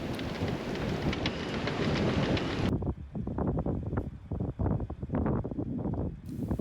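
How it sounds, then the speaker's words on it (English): Strong wind roaring across the microphone while a sailboat races near Wellington, New Zealand, a loud constant rushing that drops after a few seconds into gusty buffeting and rattling. "Close to Wellington, the wind picks up."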